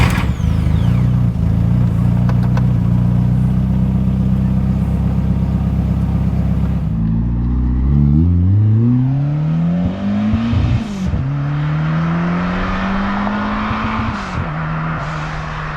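A turbo Ford Cortina Mark V with a Cosworth engine, around 340 bhp, idles loudly up close, then revs repeatedly, its pitch sweeping up and down in several strong blips, with no talking.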